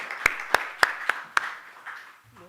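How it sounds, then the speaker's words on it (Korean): A church gathering at a monastery breaking into applause: five sharp, evenly spaced claps in a quick rhythm, then a softer fading spatter of clapping. "박수로 올려드리겠습니다."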